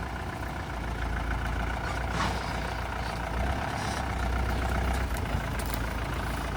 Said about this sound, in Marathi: बघा आपण ही गाडी इकडे लावायची आपल्याला